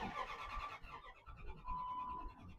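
A cheap used car's engine cranking and trying to start, with a rough churning turnover and uneven mechanical noise, fairly faint, with no talking over it.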